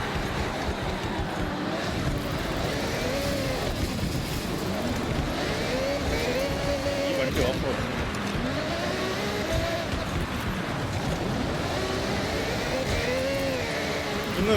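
Engines roar through a Forza Horizon race, continuous revving with repeated rising and falling gear shifts, loud and sustained with no speech over it.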